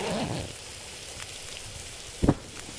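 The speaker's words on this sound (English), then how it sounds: "Sounds like it's raining almost" In The Long Dark video game, on Interloper difficulty, a soft, continuous rain-like patter and hiss fills the scene, and a single dull knock sounds near the end.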